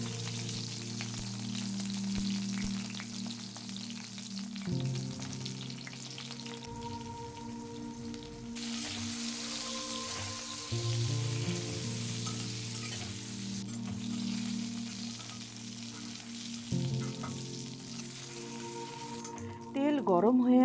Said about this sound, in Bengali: তারপর 2 টুকরো করে কেটে রাখা ছোট বেগুনগুলো ভেজে তুলে নেব।